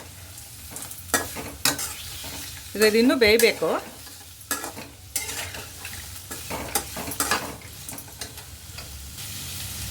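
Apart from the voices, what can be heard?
stirring capsicum in tempering oil in a pan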